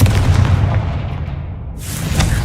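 The Confringo spell detonates in the video game Hogwarts Legacy with a loud, booming blast that rumbles low and decays over a couple of seconds, then a fresh burst of noise cuts in near the end.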